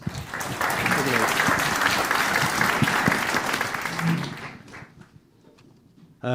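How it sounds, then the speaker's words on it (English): Audience applause at a BioFarm 2023 conference welcoming a speaker from An Taisce, a dense sustained clapping that fades out after about four and a half seconds, followed by quieter stray sounds before a voice begins. "A round of applause, please."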